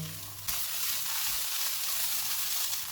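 Carrot, capsicum and green chillies sauté over medium heat in a pan, a steady close sizzle that starts abruptly and continues without a break, with no talking.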